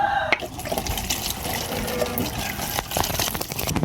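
Fresh milk poured slowly into a plastic bottle with its bottom cut off, a close, steady liquid splash and trickle that runs continuously throughout.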